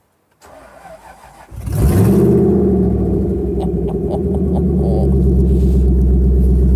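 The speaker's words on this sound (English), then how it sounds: "apparently this car doesn't have an exhaust. So let's go for a start up." A Jaguar car with no exhaust fitted cranks briefly on the starter, then fires into a loud, raw, open-pipe idle that holds steady and close.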